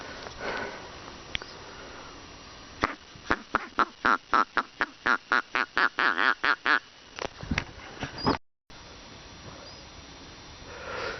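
A hunter's duck call sounds during a duck hunt at Sarısu lake: a close, rapid run of about fifteen loud quacks, then a fainter outdoor hush.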